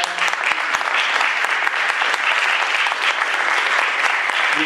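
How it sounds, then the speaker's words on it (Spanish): Dense, loud applause from an audience at a Mar del Plata short film event fills the space evenly, a close wash of many hands clapping without pause. "se merece un gran aplauso por todo lo que están haciendo"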